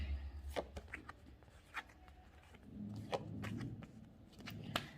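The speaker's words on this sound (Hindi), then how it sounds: "ये हमारे कार्ड्स हैं जिसको मैं लाइव शफल करूँगी आपके सामने।" Tarot cards being shuffled by hand, heard as quiet, irregular riffling flicks and soft slides that are close but faint.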